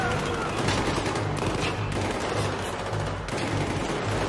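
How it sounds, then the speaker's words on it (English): A shotgun in Battlefield 3 fires in a dense, loud exchange of gunfire, with blasts overlapping one another and no pauses through the whole stretch. "So this shotgun is so nasty."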